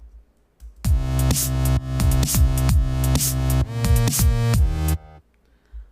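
A punchy drum beat plays back loud and repeating, kicks and snares cycling in a tight loop for several seconds before cutting off.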